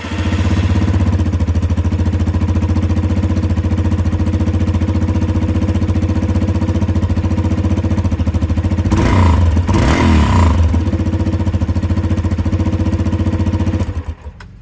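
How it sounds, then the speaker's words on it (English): A 2021 Yamaha XT250 motorcycle engine runs steadily at a loud, close idle with a throbbing, even exhaust note. Two brief rises in the sound come near the end, and then the engine cuts off. "Awesome, the bike started up just fine as expected."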